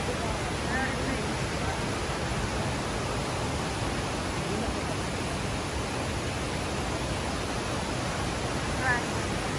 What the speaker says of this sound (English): So beautiful waterfall.